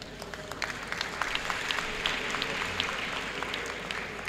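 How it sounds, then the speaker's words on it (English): Audience at a university inaugural lecture applauding, a moderate crowd of steady clapping with distinct individual claps standing out, continuous throughout at medium distance. "Another round of applause."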